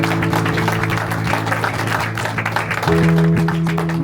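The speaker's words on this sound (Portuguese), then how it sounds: "Dê um aplauso ao Senhor" A church congregation applauds during a worship service. The broad, steady clapping runs throughout over sustained organ or keyboard chords, which swell louder near the end.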